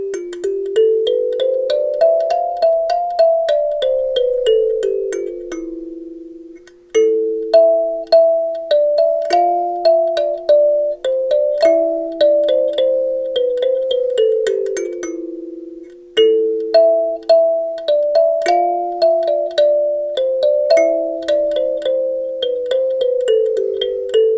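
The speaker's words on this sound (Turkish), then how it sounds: "Gelin birlikte kalimbamızla bir şarkı çalalım ve kalimbamızın sesine bakalım." Huanyin HKM17 kalimba playing a melody of bright plucked metal tines, each note ringing and decaying in descending runs, with phrases repeating over a long stretch and no voices.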